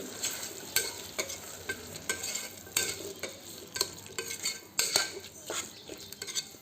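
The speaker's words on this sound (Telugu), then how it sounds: "కర్డ్ కూడా బాగా ఫ్రై అయిన తర్వాత పైన ఆయిల్ పైన తేలుతుందండి, అంతవరకు చేసేస్తున్నాం" Curd frying with carrots and beans in a pan for broken wheat pulao, with repeated soft scrapes and clinks of a utensil stirring over a faint sizzle. The sound is quiet and close.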